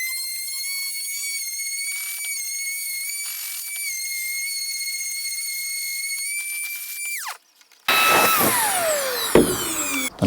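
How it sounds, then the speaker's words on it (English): A power sander whines steadily while flattening a DIY wooden end panel, a high sustained tone that cuts out abruptly, then starts again harsher and louder. "Now we're going to sand this flat."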